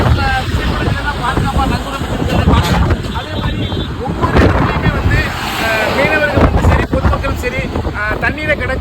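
Heavy rain and strong wind roar steadily across southern Tamil Nadu, a loud gusty wash buffeting the microphone throughout while someone talks over it.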